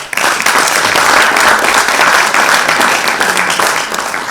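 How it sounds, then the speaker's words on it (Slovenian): Loud, full applause from an audience honouring Red Cross Kranj volunteers and blood donors at an awards ceremony, a steady wash of clapping that swells and then tapers slightly near the end. "Dajte jim še en velik aplavz."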